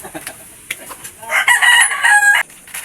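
A rooster crows once, loud and close, its call rising and holding before cutting off, with light scattered noises around it.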